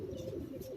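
A pigeon held in the hand gives a soft, low, continuous cooing close by, steady throughout with no talk over it.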